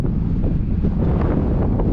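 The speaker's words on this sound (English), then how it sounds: "Windy up here, wow." Strong wind buffets the microphone in a continuous low rumble at a high spot in Big Bend National Park, roaring steadily with no voices.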